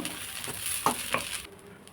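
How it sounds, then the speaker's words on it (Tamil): Drumstick leaves stir-fry in a pan, giving a soft steady sizzle with a few scraping stirs and light clinks, close by and fading out near the end, no talk. "முருங்கீரை வந்து அலசி சுத்தம் பண்ணி வச்சுருக்கேன் சேர்த்துக்கலாம் நல்லா சுருண்டு வருது"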